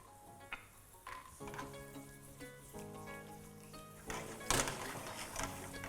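Cashews and raisins dropped into hot ghee for kheer, with a steady close sizzle, a few clinks and scrapes of stirring, and a louder burst of frying near the end; no talk.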